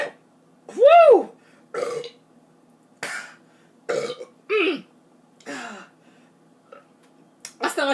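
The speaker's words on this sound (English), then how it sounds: "I gotta burp" A woman burps repeatedly after drinking soda, several loud, drawn-out belches spaced across the stretch with short quiet gaps, close and clear.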